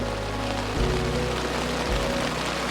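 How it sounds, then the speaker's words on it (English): Rain falls steadily on a tent overhead in the Mourne Mountains, a soft even hiss of drops over a low background hum, with no talking. "it's a similar feeling when it rains"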